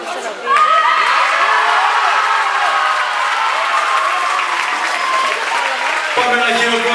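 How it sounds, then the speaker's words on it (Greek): Championship final crowd applauding two athletes: loud, sustained clapping with scattered shouts and whoops, and a voice over the crowd near the end. "Πάμε ένα χειροκρότημα για τους δύο αθλητές μας."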